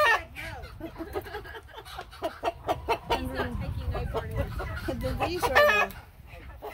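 Faverolles chickens on a farm clucking and crowing in a busy, overlapping flock chorus, close and steady, with a person talking over them.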